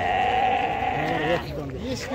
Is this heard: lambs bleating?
yes